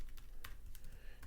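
Keys on a computer keyboard clack in quick, irregular taps, close and fairly quiet, while Python code is written.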